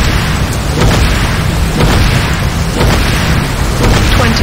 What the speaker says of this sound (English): Nod repair facility destroyed.